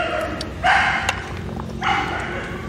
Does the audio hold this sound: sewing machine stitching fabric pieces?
no